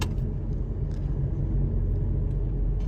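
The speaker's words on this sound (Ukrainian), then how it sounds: "зараз їду вже своєю вулицею" A car just back from a year of repairs drives along a residential suburban street, a steady, close, low road rumble and engine hum inside the cabin with no speech.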